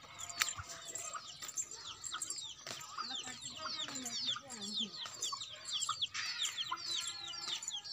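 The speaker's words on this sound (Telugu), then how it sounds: "కోడి పాపలు" Hens and chicks cluck and cheep in a home yard, a steady chorus of high peeping chicks over lower clucks, near and moderately loud, with some wing flapping and faint background voices.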